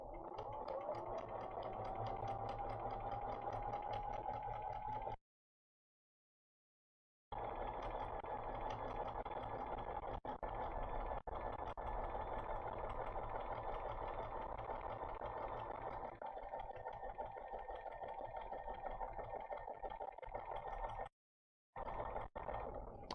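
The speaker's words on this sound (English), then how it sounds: "now we're going to go downsize our zigzag" Sewing machine running a narrow zigzag stitch at a longer stitch length, a steady close mechanical whir that holds for about five seconds, pauses, then runs again for most of the remaining time with one more brief stop.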